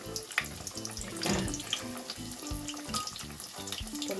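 Mandazi dough frying in hot oil gives a dense, steady crackling sizzle close by that holds through the whole moment, with no talking.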